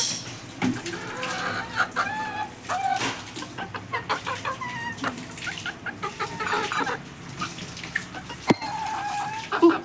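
Household chickens cluck and squawk close by in a village yard, busy overlapping calls with a rooster crowing among them, no talking.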